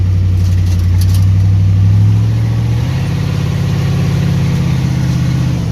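An Oldsmobile Cutlass G-body car pulls up to a shop with its engine running loud and close, a steady low rumble with a smooth shift in pitch partway through.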